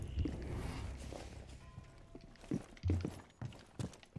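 Enemy footsteps in Rainbow Six Siege, a series of soft, uneven thuds with a few louder impacts, moving around at middle distance against a steady game ambience.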